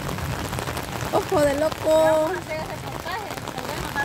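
Steady rain falls outdoors, a close, even hiss of drops on surfaces throughout, while a person speaks briefly over it.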